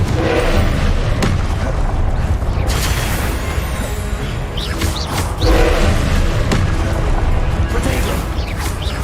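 Repeated Confringo fire-spell blasts in the video game Hogwarts Legacy, dense booming explosions and crashing impacts layered over a continuous loud battle din, with several heavier bursts standing out.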